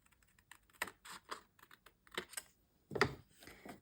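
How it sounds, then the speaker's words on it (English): Scissors snip through paper along a drawn line while making pages for a rustic farm mini album, a run of short, crisp, irregular cuts close by with a louder crunch near the end. "I'm just using a scissors. Cutting through that line."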